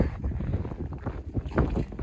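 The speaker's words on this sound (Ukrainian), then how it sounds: "Вітер є, нічого." Gusty wind during a snowfall in Montreal buffets the microphone with low, uneven rumbling that rises and falls over a couple of seconds.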